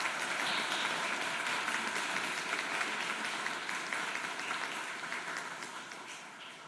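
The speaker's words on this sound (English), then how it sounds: "so please give them a round of applause." Audience applause at a medical college graduation ceremony for new graduates, a dense, sustained clapping crowd heard at moderate distance that gradually fades over several seconds.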